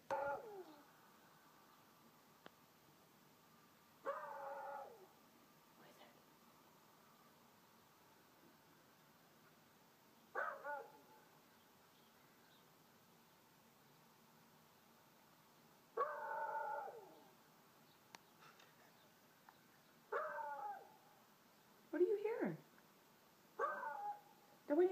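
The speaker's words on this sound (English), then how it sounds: "Play him this video of a beagle barking." A beagle barks and howls from a played-back recording, in six or seven separate bursts spread through the stretch, heard in a quiet home room.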